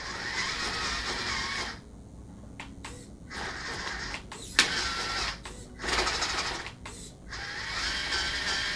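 A WPL C24KM RC truck shifts into low gear, its small electric motor whirring in several bursts separated by short pauses, with a sharp click partway through.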